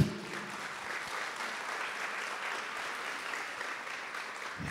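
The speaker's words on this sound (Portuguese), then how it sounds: "Vamos aplaudir a mulher do Apocalipse." A church congregation applauds during a sermon, steady even clapping from many hands filling the room for several seconds with no speech over it.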